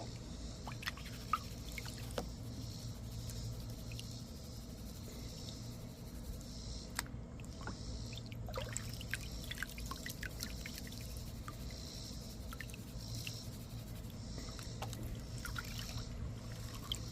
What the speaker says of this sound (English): I'm going to rinse out the bag, make sure you got everything.